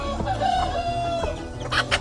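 Wild forest chickens in woodland give off nearby clucking and a drawn-out crowing call, with a few sharper squawks near the end and no voices.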